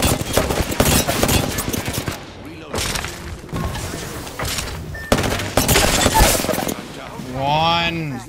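Rapid full-auto gunfire from an Apex Legends weapon in a Season 17 match, loud sustained bursts of shots with brief pauses between them and a player talking in between.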